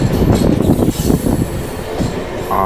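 A local train bound for Puri in Odisha rumbles and clatters loudly along the rails, with a steady close rolling roar and a brief high wheel squeal near the end.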